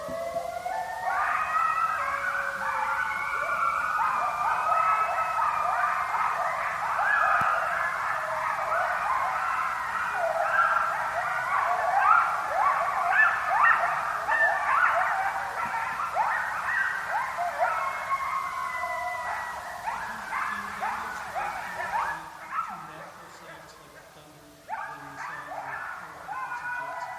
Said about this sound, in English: our last clip is some coyotes